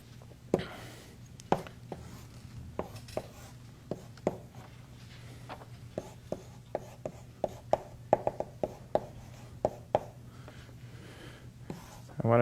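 Chalk tapping and scraping on a board during a university lecture on advanced data structures, in a steady run of sharp knocks and strokes with room hum underneath.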